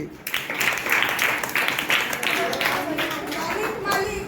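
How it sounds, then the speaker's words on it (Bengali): A crowd claps at a birthday celebration with a drawing competition, a dense, continuous patter of many hands applauding near and loud, with voices mixed in. "হাততালি।"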